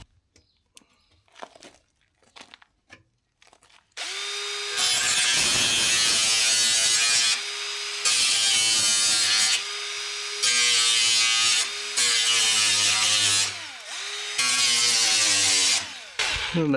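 A die grinder cuts through thin, rusty car fender metal, a sustained harsh high-pitched whine broken by short pauses between passes, loud and close, after a few quieter handling knocks.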